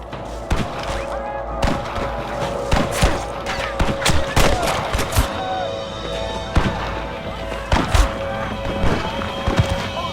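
Gunfire in a Red Dead Redemption shootout on PC: scattered sharp shots and thuds from several guns in irregular bursts, some close and loud, over a droning backdrop.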